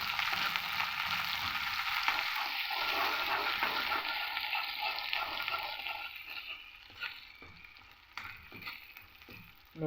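Onions dropped into hot oil in a home kitchen set off a loud, continuous crackling sizzle that gradually softens, with occasional scraping stirs of a spatula breaking through toward the end; no one speaks.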